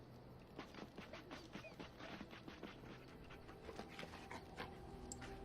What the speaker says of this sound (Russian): Забавная псинка у нас.